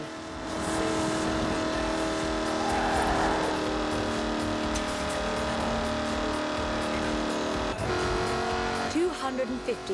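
A Jaguar Project 7 sports car, built as an E-Type successor, drives in the racing game Forza Horizon 4, its engine holding a steady sustained drone with faint tire noise, while a voice narrates over it.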